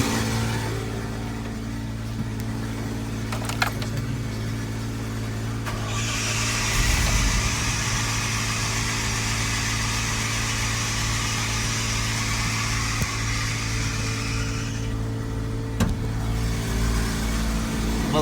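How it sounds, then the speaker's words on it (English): Engine of a forestry bucket truck starting with a brief crank, then settling into a steady, moderately loud idle with a continuous low rumble and broad mechanical hiss, no talking over it. "I'm going to go ahead and start the engine."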